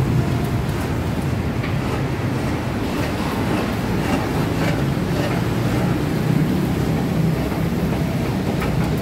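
A steady, loud rumble of a train at a station in Bangkok, Thailand, with continuous rolling noise and faint rattling throughout and no clear voices.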